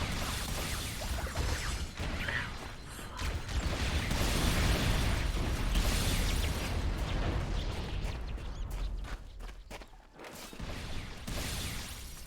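Projectiles exploding in the video game Halo, a dense stretch of bursts, pops and crashing blasts layered over low rumble, loud throughout with a few sharp dropouts near the end.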